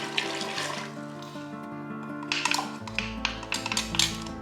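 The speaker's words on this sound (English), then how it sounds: "And I'm going to fill all of this with water and put it in." Water runs from a tap into a pot for Bolivian peanut soup, a steady splashing stream with light clinks of cookware, close and moderately loud against a faint kitchen hum.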